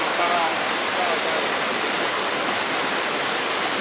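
Rushing water of a flooded, swollen river roars as a steady, loud, broadband wash with no breaks, close by and filling the whole stretch.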